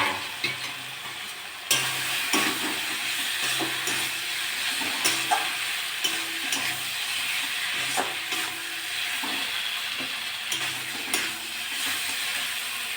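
Pointed gourd (potol) fries in a hot pan for a mustard potol dish, giving a continuous close sizzle broken by the scrape and clatter of a spatula stirring repeatedly.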